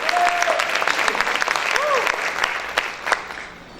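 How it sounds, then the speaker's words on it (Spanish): A church congregation breaks into loud, dense applause mixed with shouts and cheering voices, sustained throughout with sharp claps and a few brief vocal whoops standing out. "¿Cuántos pueden gritar y aplaudir fuerte al Señor?"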